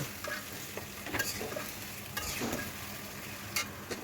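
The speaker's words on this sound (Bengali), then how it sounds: "এখন মাছগুলো ঢেলে দিচ্ছি" Fish added to a pan of hot oil with turmeric and chili, frying with a soft steady sizzle broken by spatula stirring scrapes, close and fairly quiet.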